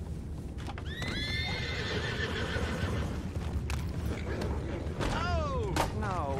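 Horses in the Red Dead Redemption 2 video game whinny loudly twice, once early and again near the end, over a steady bed of clip-clopping hooves and ambient noise.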